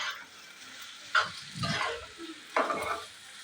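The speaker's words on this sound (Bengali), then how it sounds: "এখন এখানে আমি একটু দুধ গুলিয়ে নিচ্ছি" Pasta noodles with milk stirred in a pan, a few separate close scraping and bubbling stirs over a quiet simmer, no talking.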